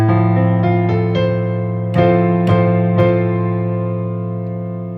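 A piano chord played with a wide left-hand stretch rings out as rolled notes that enter one after another, then a few more notes strike over it while the chord sustains and slowly fades, with no talking.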